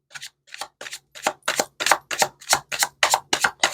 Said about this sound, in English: So I'm going to shuffle.